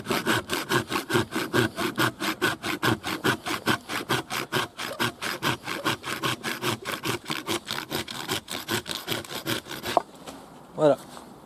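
A machete hacks repeatedly into wood outdoors, a fast, even series of sharp chopping strokes kept up for about ten seconds, close and loud, then a brief pause and a last scraping sound.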